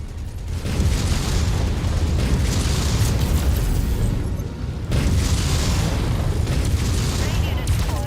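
A mech cooking off in Mechwarrior 5 Mercenaries produces heavy, rolling explosions, loud booming blasts that roar continuously with a brief dip before a second eruption, in the thick of battle noise.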